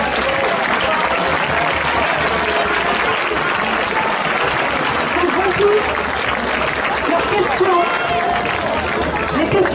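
A large crowd at a Paris street demonstration against the Covid pass applauds continuously, with a loud, dense wash of clapping mixed with cheering and chattering voices throughout.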